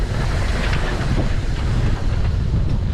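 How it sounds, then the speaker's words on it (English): Wind rushes and water slaps around a sailboat motoring into the wind on bumpy seas, a steady loud roar of gusts and churning waves with no talk. "The seas have built a bit, so it's a bit bumpy as I motor into the wind to get ready to drop the main."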